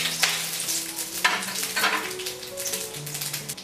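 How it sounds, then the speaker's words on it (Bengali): Whole tempering spices hit hot mustard oil for a sour, spicy pumpkin curry, crackling and sizzling up close while a spatula scrapes the pan now and then. "তেলটা গরম হয়ে গিয়েছে, এর মধ্যে এখন আমি ফোড়নের জন্য যেগুলো রেখেছিলাম সেগুলো দিচ্ছি।"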